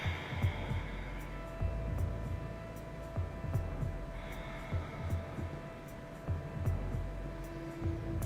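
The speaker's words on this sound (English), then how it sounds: "We have this heartbeat in the music," A steady thumping heartbeat pulse woven into calm yoga-class music, repeating at an even rhythm under a soft sustained hum, moderately loud and continuous.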